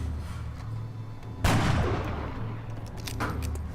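A soldier's gunshot in XCOM: Long War fires as one sharp, loud crack after a stretch of low ambient hum, then rings out briefly over the steady in-game background.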